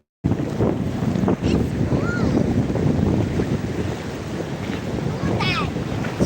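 Rough waves churn and break at a beach on a cloudy day, a continuous loud roar of surf mixed with gusty wind buffeting the microphone.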